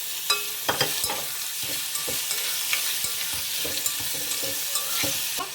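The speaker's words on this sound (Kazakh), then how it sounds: "Үстіне тауық етін салып тағы да қуырып аламыз." Onions browned in a pan with chicken pieces added sizzle steadily while a utensil stirs them, giving sharp scraping clicks over a constant frying hiss.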